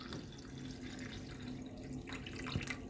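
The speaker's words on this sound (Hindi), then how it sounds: "1 में डालेंगे पानी और 1 में सोडा, आप चिल्ड वाटर का ही इस्तेमाल करें।" Chilled water and soda pour into glasses for a masala soda drink, a soft continuous trickle and fizz with faint clinks, quiet and close, with no talking.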